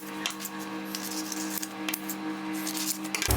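Scissors snipping through paper while cutting out dress pattern pieces, a close, steady run of crisp cuts over a faint background hum.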